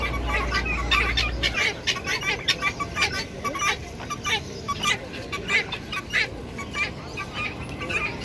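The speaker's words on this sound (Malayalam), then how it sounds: "പ്രാവ്, നാടൻ കോഴികൾ, നാടൻ കോഴികൾ ഭയങ്കര ഡിമാൻഡാണ്" Pigeons and native chickens at the Dammam Friday market in Saudi Arabia give repeated clucks and squawks amid market bustle and nearby voices, fairly close and moderately loud.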